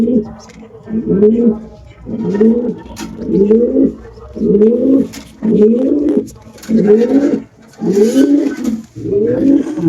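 Caged pigeons coo loudly and close up, giving about nine evenly spaced, deep rolling coos in a regular rhythm across the whole stretch.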